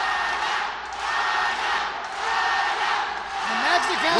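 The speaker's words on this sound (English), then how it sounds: "Look at the crowd going crazy for Padua and Segura." An MMA event crowd cheers and roars steadily throughout, a broad wash of voices with swelling whoops, under an announcer's commentary.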